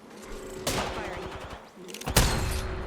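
Gunfire in a battle royale video game comes in two loud, close bursts of rapid shots, with continuous game noise between them.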